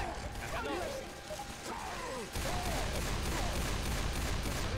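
Video game gunfire from Left 4 Dead 2 crackles in rapid bursts and dense volleys, loud and constant, while players talk excitedly over the shooting.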